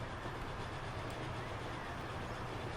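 A steam train on rails in the Transport Fever 2 game, running the Flying Scotsman route from London Kings Cross to Edinburgh, rumbles along steadily with dense continuous track noise throughout.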